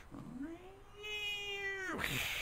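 Cats outside at night let out a single drawn-out caterwaul, a rising, sustained yowl that holds steady before breaking off abruptly, with a faint low background beneath it.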